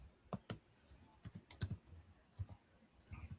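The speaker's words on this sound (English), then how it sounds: "I was typing this in." Computer keyboard typing in short bursts of clicky keystrokes, close and fairly quiet, with brief pauses between clusters and no talking.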